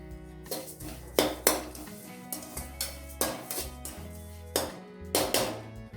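Roasted flattened rice for avalakki laddu tipped onto a plate, heard as a close run of metallic clinks, taps and thunks of a utensil against the pan and plate.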